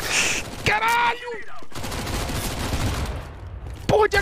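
Gunfire in a video game: a few sharp shots and short bursts mixed with game effects, heard under excited shouting from a player.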